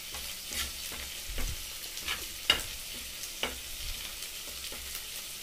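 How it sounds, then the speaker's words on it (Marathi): Gram flour (besan) roasts on a flat griddle while it is stirred so it does not burn. Soft, quiet scraping and spatula taps repeat at an uneven pace over a low, steady hiss. "आता याला हलवायचं आहे, जेणेकरून ते जळालं नाही पाहिजे"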